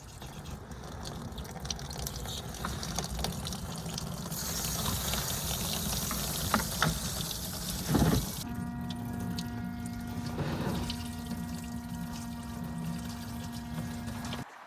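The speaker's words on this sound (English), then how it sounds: "Open the drain plug and let the coolant flow into the pan." Coolant drains from a Dodge Charger radiator into a catch pan, a steady close pouring and splashing stream that continues for the whole stretch, with a faint mechanical hum joining partway through.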